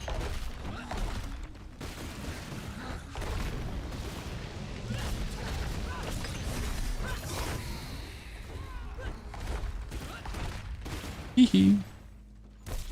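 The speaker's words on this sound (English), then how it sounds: "More overpower explosion." Barbarian overpower explosions in Diablo 4 erupt as a dense run of booming, crackling blasts. They come thick and loud across the whole stretch, with a sharper burst near the end, while game noise churns underneath.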